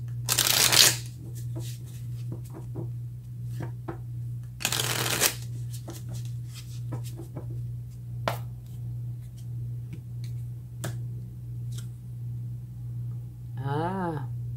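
Tarot cards being shuffled in two quick riffling bursts near the start and middle, close up, with soft handling taps and a steady low hum in between.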